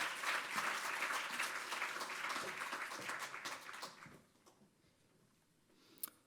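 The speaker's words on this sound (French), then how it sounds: "Sous vos applaudissements" An audience at an anniversary conference for a Vaud social services organisation applauds for about four seconds, fairly dense clapping that tapers off into quiet room tone, then one sharp knock near the end.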